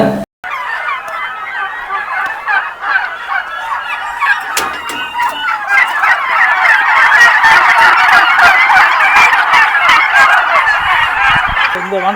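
A flock of turkeys gobbling and calling continuously, many overlapping voices at once, loud and close, with the chorus swelling partway through.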